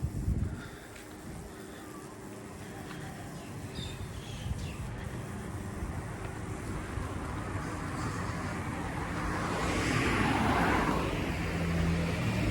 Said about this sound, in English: There are quite a lot of motorbikes and cars because it's around 6.